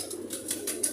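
Low throaty cooing from a Sialkoti pigeon, soft and close in a short continuous murmur, with faint light rustling above it.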